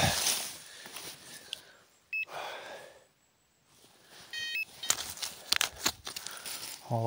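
Metal detector sweeping over ruins of a castle, giving a few short electronic beeps amid crackling, rustling handling noise and a quiet gap, fairly close.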